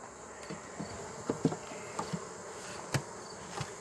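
Honeybees buzz around an open beehive, a steady insect drone with scattered louder passes and light tapping knocks close by, no talk.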